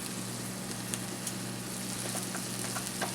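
Onion pieces and vegetables sizzle in a hot pan of cooked steak for a cheese steak sandwich, a steady moderate crackle with a few small pops, no voices.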